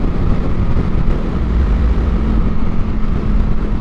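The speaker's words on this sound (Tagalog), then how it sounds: "Ang bilis ng Aerox niya." A Yamaha Aerox 155 V2 scooter runs loud and close, with a steady, strong engine roar held for the whole few seconds as it speeds by. Nobody talks.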